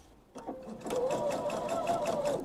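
A home sewing machine stitching fabric for a thread catcher, running in a steady rapid whir that starts after a brief pause and continues loud and close, reversing to back stitch near a corner.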